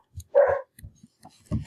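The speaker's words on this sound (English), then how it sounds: "Sorry for the barking." Dog barking close by in a short burst of a few sharp barks with brief gaps, loud against an otherwise quiet room.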